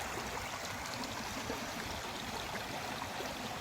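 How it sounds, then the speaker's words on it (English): Creek water flows steadily during a hike at Blevin's Gap, a soft, even rushing and trickling wash with no voices, fairly quiet and continuous throughout. "Across that creek."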